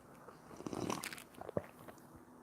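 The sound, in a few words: sipping and swallowing a drink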